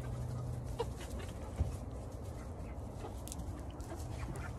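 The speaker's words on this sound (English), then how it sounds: "Little chicks." Small chicks cluck and cheep in a farmyard or garden pen, soft scattered peeps over a steady low background hum, with a brief louder knock partway through.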